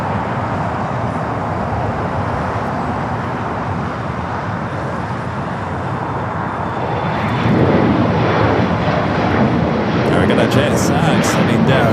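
A JSX jet taxis down taxiway Alpha at an airport, its engine noise a loud, continuous rumble that swells louder toward the end, with talk mixed in.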